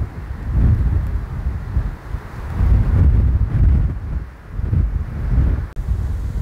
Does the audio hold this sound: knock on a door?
no